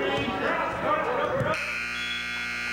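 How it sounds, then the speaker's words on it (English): A loud, sustained electronic buzzer sounds at a high school varsity wrestling match to end the first period, cutting in sharply after crowd noise and commentary and holding steady to the end. "And there's the buzzer for the end of the first period as Lakshay Kahana is leading over Omar Rady"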